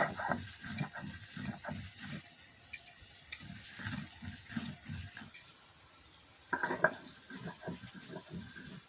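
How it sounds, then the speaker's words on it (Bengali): Spices are ground to a fine powder for a raw mango pickle, making a rhythmic series of quick scraping, grinding strokes close by, with a short pause before a louder burst near the end. "আমি মশলাগুলো গুঁড়ো করে নেই"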